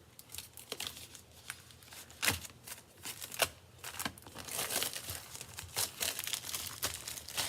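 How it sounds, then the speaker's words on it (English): Scissors snip and crinkle through a Paper Pumpkin craft kit's package wrapper, a quiet, close run of irregular crackles and sharp cuts with no talking. "Let's grab our little scissors and open this up"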